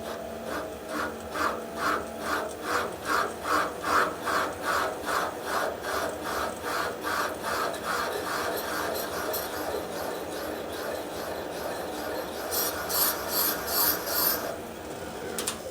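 A valve seat cutter scrapes into the aluminum of a 1990s Harley-Davidson Sportster 1200 XL cylinder head in a steady rhythm of rasping back-and-forth strokes, close up, ending in a quicker burst of strokes.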